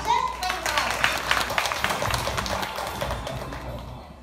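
An audience claps in welcome as a speaker is called up at an exhibition opening ceremony, a dense patter of applause starting loud and slowly thinning, with a voice talking over it.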